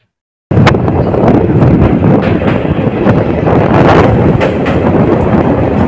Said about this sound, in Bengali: বন্ধুরা 15721 দীঘা পাহাড়িয়া এক্সপ্রেস নির্দিষ্ট সময় থেকে 3 মিনিট দেরিতে পৌঁছলো কাতি স্টেশনে।